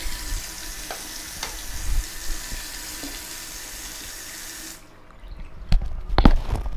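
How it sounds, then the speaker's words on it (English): A modern faucet in Prague runs steadily with a broad hissing rush, then shuts off, followed by a few sharp clicks and knocks nearby. "That's a cool water faucet."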